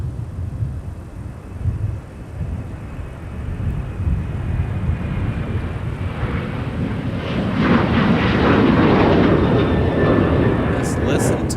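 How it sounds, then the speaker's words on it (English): Boeing 737-900ER jet engines at Minneapolis–St. Paul Airport, a loud steady roar and rumble that swells and intensifies toward the end, heard from outside at moderate distance. "Just listen to those engines."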